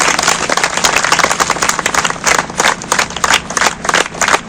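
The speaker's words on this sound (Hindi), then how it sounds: "हम जितने भी अधिकारीगण हैं तालियों से इनका स्वागत करते हैं" Dense, steady applause from a crowd welcoming officials at an Azadi Ka Amrit Mahotsav community programme, loud and continuous with surging waves of clapping throughout.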